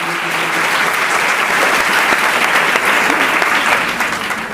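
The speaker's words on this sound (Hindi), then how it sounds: "एक बार जोरदार तालियां हो जाए" Loud, steady audience applause fills a game show studio, dense and continuous throughout before tapering slightly at the end.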